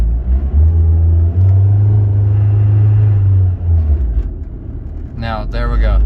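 A 2007 Ford Focus with a shifting fault drives along and shifts into third gear, its engine rumbling low and close, rising then dropping as the gear changes, with a person talking briefly near the end.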